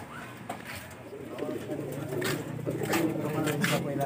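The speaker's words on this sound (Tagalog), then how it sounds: "Ito yung mga kalapatids natin" Pigeons coo in a loft, several soft throaty coos repeating at close range over a low background murmur, with people talking nearby.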